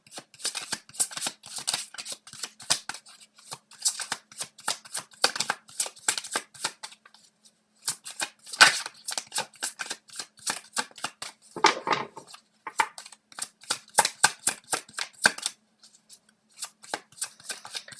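Tarot cards being shuffled, giving rapid bursts of crisp riffling and flicking in several rhythmic runs separated by short pauses. The sound is close and fairly quiet, with no speech.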